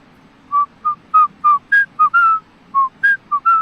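An unfamiliar bird calls by a river at Coto Mines, giving about a dozen clear, whistled notes in an irregular series, some rising or slurred, loud and near over a soft steady background hiss.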